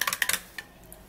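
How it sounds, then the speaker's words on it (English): A spoon stirs a turmeric drink in a cup, giving a quick run of five or six bright clinks followed by one last tap, close and clear. "And then we would stir this all up together very well"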